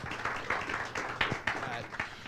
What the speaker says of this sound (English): let's give both of our speakers a round of applause